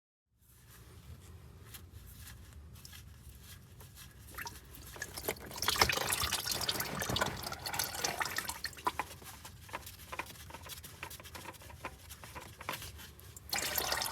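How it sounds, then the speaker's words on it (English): Dark used engine oil draining from a 2.5L Ford Maverick hybrid during its first oil change, a faint, continuous trickle with scattered drips that builds slightly louder partway through. "So we'll go ahead and let this drain out for a minute."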